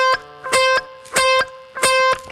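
Electric guitar playing short, choppy notes cut off abruptly, three clipped bursts with silent gaps between, close and alone.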